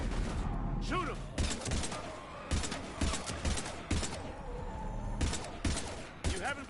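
Rapid bursts of gunfire crack repeatedly in a dense fusillade of sharp shots at close range, with shouting voices mixed in among the volleys.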